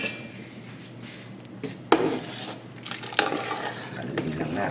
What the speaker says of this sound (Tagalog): Haluin lang natin mga boss.